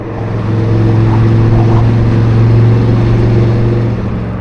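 A car engine on a night drive through New York City, a loud steady droning rumble with a firm low hum that swells slightly and holds throughout, no voices.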